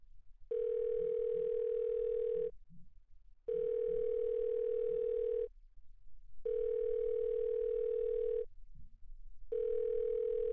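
A telephone rings unanswered in the adventure game Thimbleweed Park, four long steady electronic tones with regular silent gaps, clear and alone.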